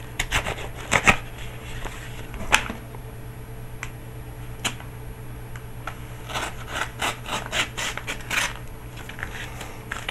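A package from Hong Kong being cut open with a Mastercraft half-serrated knife, giving scattered sharp ticks, scrapes and rustles of tearing packaging, close and fairly quiet over a steady low hum.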